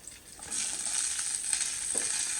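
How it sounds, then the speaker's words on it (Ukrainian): Onion fries in lard in a hot pan, sizzling and crackling, a steady hiss that starts after a brief moment and continues quietly. "Буду смажити її такого до золотавого кольору"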